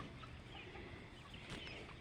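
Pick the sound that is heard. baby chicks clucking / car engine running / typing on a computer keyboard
baby chicks clucking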